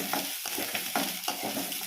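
Raw onions fry in hot oil in a home kitchen, a steady close sizzle broken by a few soft stirring scrapes, with no voices.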